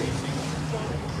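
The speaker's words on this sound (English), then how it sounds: "Just warming that motor up now and checking for those waves." Jet ski motor idling and warming up on the water at a freestyle competition, a steady low rumbling drone with wind and waves around it.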